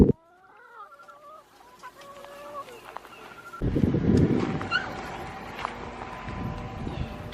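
Chickens cluck and squawk in a coop at close range, sharp repeated calls at first, then a louder burst of flapping and clucking, with people talking over them.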